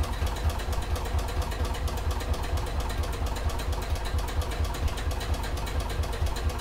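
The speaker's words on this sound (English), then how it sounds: "I'm just going to carry on stitching up the edge" Sewing machine stitching along the edge of a clutch bag, running steadily with a fast, even mechanical whir and rapid needle rhythm, close and continuous without pause or speech.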